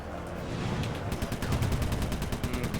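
Video game gunfire in Sly 3: Honor Among Thieves, a rapid automatic burst of evenly spaced shots that starts after a moment of noisy background and runs steadily at moderate loudness.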